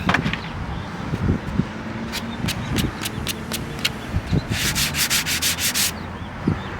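Small wooden fingerboard stair pieces being sanded by hand, with repeated scraping rub strokes close up and a faster run of short rhythmic strokes near the end, no talking.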